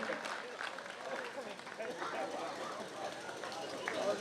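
An audience at a Hindi comic poetry gathering claps in a faint, dense, continuous patter of applause lasting several seconds, with some crowd chatter mixed in.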